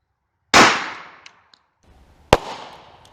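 A close gunshot fired at a Polish Wz93 Kevlar helmet in a ballistic test, a sharp loud crack with a ringing decay, a few small ticks, then a second sharp impact-like bang, with no talking.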